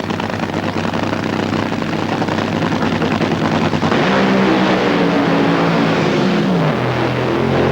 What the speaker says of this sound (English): John Force driving through to win